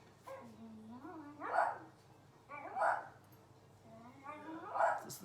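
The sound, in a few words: dogs barking outside bedroom window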